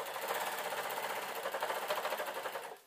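A serger overlock machine stitches denim skirt pieces made from leftovers, a fast, even mechanical whirring chatter running continuously at close range before stopping abruptly at the end.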